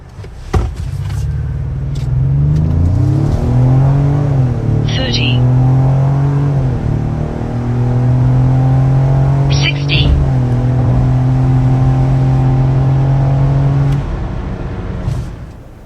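A 2025 Ford Explorer SUV accelerates hard in a 0-60 test, heard from inside the cabin. The engine drone rises in pitch through gear shifts, loud and sustained, with brief beeps over it.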